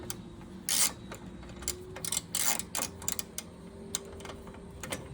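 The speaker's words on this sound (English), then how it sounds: "I'm just tightening these bolts" Bolts being tightened by hand on a snowblower during a pull-cord repair, heard as faint mechanical clicks and ratcheting bursts over a low steady hum.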